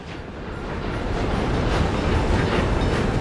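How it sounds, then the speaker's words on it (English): A train rolls past in the Workers and Resources city-building game, a steady, loud broadband rumble with faint clattering that swells slightly and holds throughout. "Hi, train."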